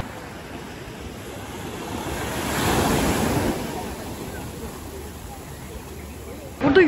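Surf rolling onto a beach in Bali, a broad wash of waves that swells in the middle and eases off, with wind buffeting the microphone throughout.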